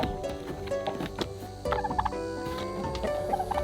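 Turkeys, including a Narragansett, gobbling in a farm pen shared with roosters, repeated loud gobbles in quick bursts at close range, with no talk over them.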